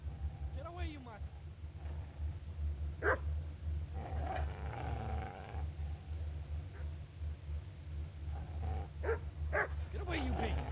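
A dog gives several short barks and yips spread across the span, over a steady low engine-like hum, with a person talking in between.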